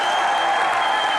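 A brief burst of loud studio-audience applause on a comedy TV show, dense and even across the short moment.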